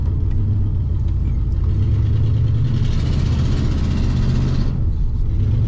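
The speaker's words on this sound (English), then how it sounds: "It's hard telling what's valve noise and what is exhaust leak." A 1963 Pontiac Catalina idles with an exhaust leak and valve noise, a loud, steady low rumble with fine rapid ticking layered on top and no talk.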